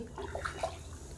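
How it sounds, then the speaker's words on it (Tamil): Water is poured into a pot of seeraga samba rice for chicken biryani, a brief, soft, steady splashing gush heard close by. "இப்போ தண்ணி ஊற்றி"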